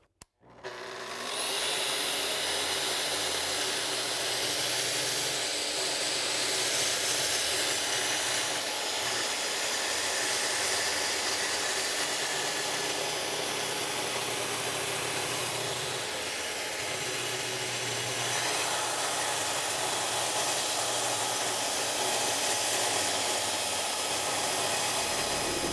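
A track saw on a long running track rips a wood board to width for a home door, a loud steady whine that starts abruptly and holds for the whole length of the cut.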